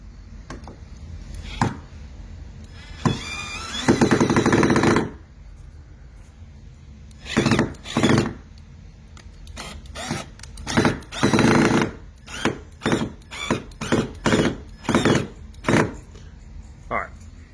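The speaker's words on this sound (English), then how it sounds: "we've used your mama's drill to get that in" An electric drill drives a screw while adjusting a door, running in a long burst, then in a series of short, repeated pulses, with a voice speaking briefly between.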